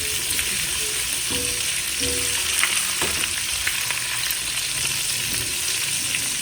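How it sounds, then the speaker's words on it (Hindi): Prawns deep frying in hot oil for tempura give a steady, dense sizzle and crackle with scattered pops, close and continuous throughout, with no talking. "ताकि दोनों तरफ से जो है प्रॉन्स फ्राई हो जाए"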